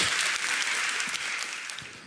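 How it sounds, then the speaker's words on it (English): Audience applause for sponsors at a schools' renewable energy competition, a dense, steady wash of many hands clapping that holds level and slightly fades toward the end. "A round of applause for all of our sponsors"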